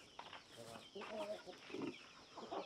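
Chickens cluck and murmur softly around a rural house in Vietnam, a scattered run of low, fairly quiet calls with some background noise.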